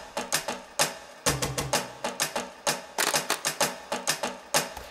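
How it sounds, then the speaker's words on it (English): An orchestral percussion kit played in from a MIDI keyboard: quick, dry, close hits fall in a busy, slightly uneven rhythm, with short clusters and accents throughout. "this little percussion part. Once again, this is the orchestral kit, same kit"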